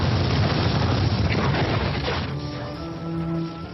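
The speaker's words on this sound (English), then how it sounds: "late one night there was a massive explosion" A massive nighttime explosion blows apart a house by the Edinburgh city walls: a loud, sustained rumbling blast lasting about two seconds, then fading under swelling music.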